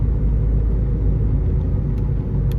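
A Mahindra XUV500 engine slowing under cruise control, heard from inside as a steady low rumble and road drone with no sharp changes, a few faint clicks near the end.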